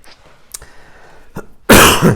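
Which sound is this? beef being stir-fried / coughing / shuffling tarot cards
coughing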